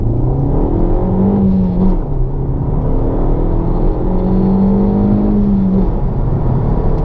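A sports car accelerates hard from inside the cabin, the engine note climbing through two rising pulls with a brief dip for a gear change between them, loud and close, no talking.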